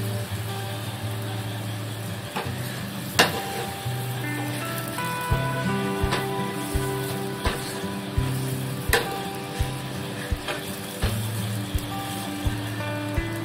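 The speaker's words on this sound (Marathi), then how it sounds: "दुसऱ्या साईडने पण तेल लावूया. छानपैकी खरपूस भाजून घेऊया मस्त." Shepu (dill) paratha roasting in oil on a hot griddle gives a steady, close sizzle, punctuated every second or two by sharp taps and scrapes of a utensil.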